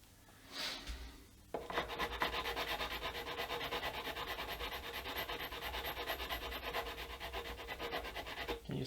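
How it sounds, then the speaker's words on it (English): A sanding block scrubs back and forth over a guitar nut being made from scratch, a close, continuous rasping stroke repeated evenly after a short quiet start. "Sanding block, going back and forth."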